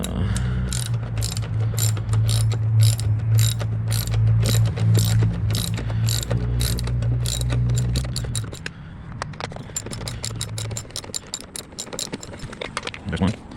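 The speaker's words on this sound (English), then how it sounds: "We're gonna ratchet those guys out." A ratchet spins out bolts on a motorcycle during a saddlebag install, its rapid clicking running steadily over a motor hum for about eight seconds, then continuing in shorter, sharper bursts once the hum stops.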